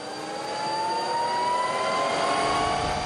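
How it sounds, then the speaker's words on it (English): Avro Vulcan bomber jet engines spinning up during start, a loud steady roar with a rising whine that climbs in pitch and builds slightly in volume throughout, close by and with no talk. "Engines turning, light up."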